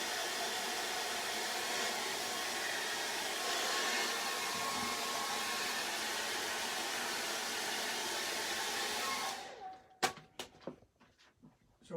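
A hair dryer blows steadily onto a soft pastel painting of a crashing wave, a loud continuous whoosh for about nine seconds that cuts off, followed by a few faint clicks and handling noises.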